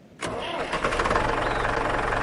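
A tractor engine in the farming game Farmer's Life cranks and fires up abruptly after silence, then settles into a steady, loud, rhythmic diesel chug.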